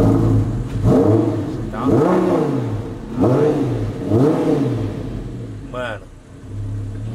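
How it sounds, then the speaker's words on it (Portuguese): An Audi R8's V10 engine revs four times in a row, each blip rising and falling in a loud, close roar, followed by a steady idle; a voice speaks briefly near the end. "O ronco do motor V10 é coisa de louco"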